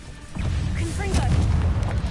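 A Confringo blasting spell in Hogwarts Legacy lands as a deep booming explosion with a rumbling low-end tail, a short whoosh and bright magical tones over it, and a voice calling out during the blast.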